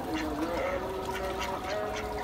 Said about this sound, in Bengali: হাঁস গোসল করে।